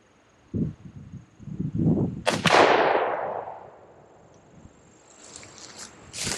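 A suppressed bullpup shotgun fires a single loud, sharp shot whose report decays over about a second, with nearby rustling and handling sounds before it and faint clatter afterward.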